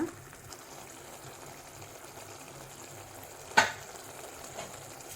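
Bitter gourd simmers in a masala on the stove, giving a soft, steady frying sizzle throughout with one sharper clink or stir partway through.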